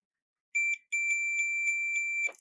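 A multimeter set to continuity beeps while probing the conductors of a repaired 1/8 inch TRS cable for old Realistic speakers, a short tone followed after a brief gap by a longer sustained piercing tone, loud and close.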